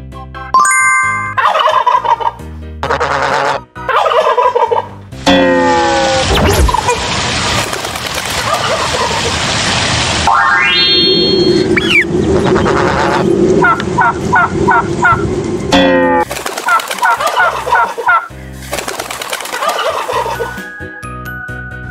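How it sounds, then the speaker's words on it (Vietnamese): A turkey gobbles in loud repeated bursts, set among bright chimes and cheerful children's music, with the gobbling rising clearly above the backing. "Turkey."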